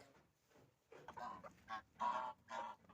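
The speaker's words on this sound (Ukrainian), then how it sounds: "і ось кури мене вже зустрічають." Several chickens cluck in short, irregular bursts nearby, quiet at first and then louder, with no talking.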